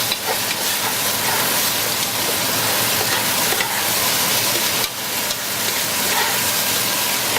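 Asparagus stir-frying in a pan over medium heat, a loud, steady hiss and sizzle filling the whole stretch without pause, close up and with no talking.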